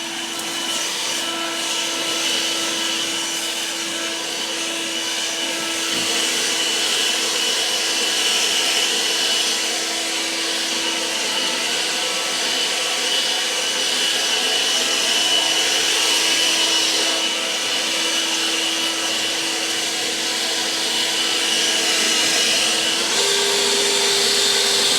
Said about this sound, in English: see if this thing will blow this hay out of here